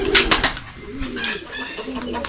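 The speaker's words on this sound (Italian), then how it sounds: "quante colombe dei matrimoni" White wedding doves at an animal shelter give soft, low coos in short repeated phrases, close by, with some sharp rustling and bird noises over a faint background of voices.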